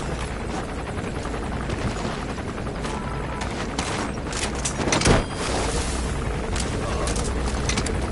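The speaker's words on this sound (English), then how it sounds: "Enemy gunship." An enemy gunship helicopter in Metal Gear Solid V: The Phantom Pain, a constant loud rotor drone and mechanical rumble filling the scene, with one brief heavier thump about two-thirds through.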